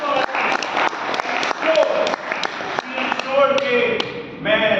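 Training-session audience clapping together, a dense burst of many hands with individual sharp claps standing out, rising and falling in waves over a few seconds, with voices mixed in.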